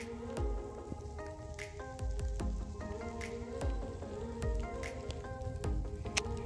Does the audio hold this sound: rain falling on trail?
yes